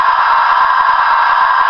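A steady, loud hiss of steam blowing off a model Class J steam locomotive, broad and constant across the whole short burst, with no voices.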